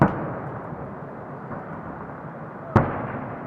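Fireworks for a May 9 salute in Kaluga boom out over a river and bridge. A sharp blast opens, a low rumbling roll follows, and a second loud bang lands near the end, heard from some distance.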